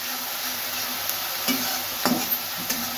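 Onion and ginger fry in a pan for a fish curry, a steady close sizzle broken by a few soft stirring clicks.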